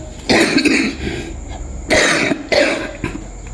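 Three harsh coughs, close and loud, spaced out over a few seconds with quiet breaths between them.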